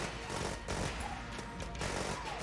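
Rapid, dense gunfire from the twin-stick shooter Enter the Gungeon, played with heavy mods, forms a continuous loud barrage throughout with no talking.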